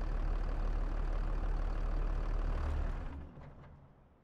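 A New Holland tractor engine rumbles steadily at idle, close and loud, with a deep low-end drone that fades down over the last second.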